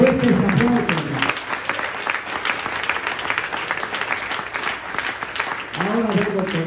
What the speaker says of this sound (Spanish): Fuertes aplausos, hermano.